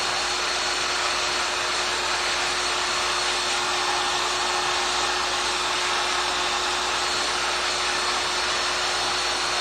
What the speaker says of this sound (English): So I'm going to turn my heat gun back on.